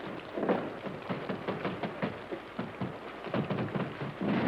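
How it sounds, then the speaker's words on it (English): Steady rain patters down with scattered heavier drops and a low thunder rumble underneath, continuous and fairly close throughout. "Holy smokes, it's raining."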